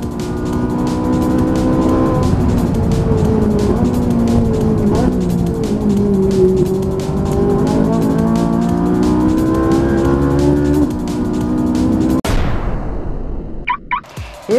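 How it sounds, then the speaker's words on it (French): Onboard engine sound from a Ferrari 458 Italia lapping at a Goodwood meeting. The loud V8 note rises and falls through gear changes for about twelve seconds, then cuts out abruptly. "voici un tour embarqué en Ferrari 458 Italia lors du meeting de Goodwood de ce week-end"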